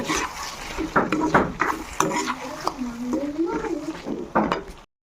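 Paneer and potatoes being stirred in a pan, with clinks and scrapes of a utensil against the metal, close by, repeating irregularly under a talking voice.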